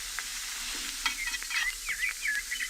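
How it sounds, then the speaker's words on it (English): Hamburger patties sizzling on a griddle: a steady close crackle of frying fat with scraping and spatula stirring, plus a few short high squeaks, with no voices. "How long do I have to listen to them sizzling there on the griddle?"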